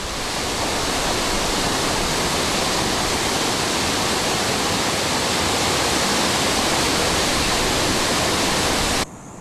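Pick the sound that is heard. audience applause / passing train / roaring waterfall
roaring waterfall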